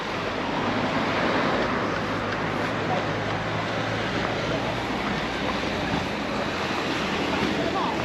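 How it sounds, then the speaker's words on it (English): Steady surf and breaking waves wash across a busy beach at Palmanova, Mallorca, a constant broad roar with wind noise on the microphone and no clear voices on top. "It's a Wednesday and the beach is looking pretty busy."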